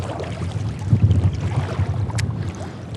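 Gusty wind buffets the microphone on a river while fishing from a boat, low rumbling gusts rising and falling, loud and close, with faint water movement beneath and no talking.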